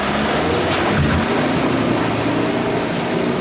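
An off-road vehicle stuck and trying to pull out, its engine revving hard under throttle in one steady, loud roar.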